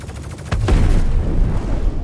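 YellowJacket gun in a space combat game firing on a Cutlass Steel ship, a loud continuous burst of rapid shots with heavy low rumble.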